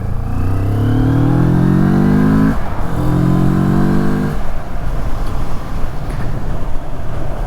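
A Moto Morini Seiemmezzo twin-cylinder motorcycle engine, about 60 horsepower, revs up through the gears, its pitch climbing twice with a brief shift between, loud and close, then settling into steady road noise.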